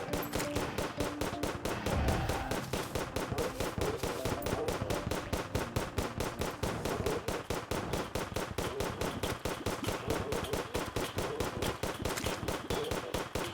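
Rapid, evenly spaced gunshots ring out in the video game Terraria, a steady machine-gun-like stream of sharp cracks that runs from start to finish without pause.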